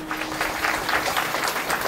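A kirtan audience claps together in a dense, steady round of applause, close and fairly loud for a couple of seconds, with a faint held vocal or harmonium tone underneath.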